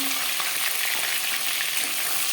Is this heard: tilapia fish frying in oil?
yes